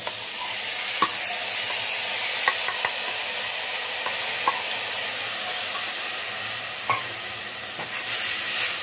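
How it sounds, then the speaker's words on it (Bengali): Masoor dal lentils, coated with turmeric and salt, fry and are stirred in a pan over low heat, a steady close sizzle broken by a few sharp scrapes and taps of the spoon, no talk. "ভালো করে এবার ভাজতে হবে।"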